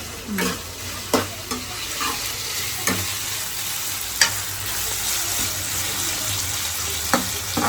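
Tomato with ginger-garlic paste frying in a pan for egg masala, a steady broadband sizzle with several sharp spatula scrapes and taps spaced through it, close and fairly loud, no talking.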